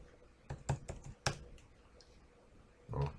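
A few quick taps on a computer keyboard as values are typed into Fusion 360 CAD software, then a pause and a final heavier keystroke like pressing enter, close and quiet.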